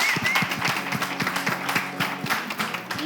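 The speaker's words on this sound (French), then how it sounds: "Est-ce qu'on peut juste applaudir la présence de l'honorable?" A studio audience on a French-language morning show applauds to welcome a guest, with steady rhythmic clapping close by, a few sharper individual claps standing out, and faint voices mixed in.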